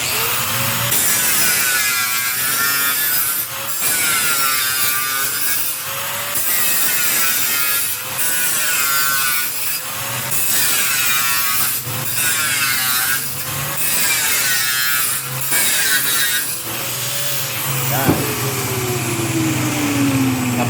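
Wood being worked by hand for a flush door lock mortise, with rhythmic rasping, scraping strokes repeating steadily and close by, each pass rough and gritty, one sharp knock near the end.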